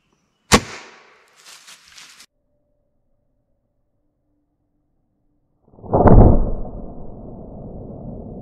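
A dieseled .30 caliber break barrel pellet rifle fires a single sharp, loud crack into ballistics gel, followed by brief faint rattles and, a few seconds later, a louder rough burst of noise that trails off.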